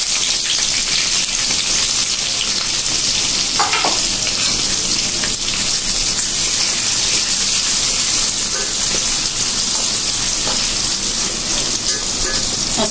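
Chopped onions sizzle steadily in hot oil in a pan while cooking chola boot (chickpeas) on a small gas cylinder stove, a continuous close, loud hiss with occasional faint stirring clicks and no talk.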